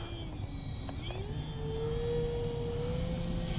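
Electric motors of an Avios Albatross HU-16 radio-controlled model seaplane spool up for takeoff, a steady whining hum that climbs in pitch and holds high and close, with no talk over it.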